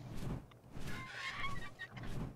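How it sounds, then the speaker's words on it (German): A bird creature in the survival game ARK: Survival Evolved gives honking, goose-like calls, several rough cries over a low game background with no talking. "Andi, kannst du mal deinen Vogel da wegpacken?"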